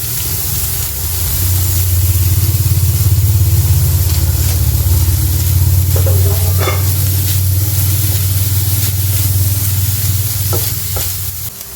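Boiled, mashed chicken frying in a pan with ginger and garlic, a loud, steady sizzle with stirring that runs for several seconds, then a few clinks of a utensil against the pan.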